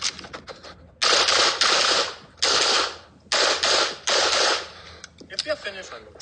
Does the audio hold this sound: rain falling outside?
no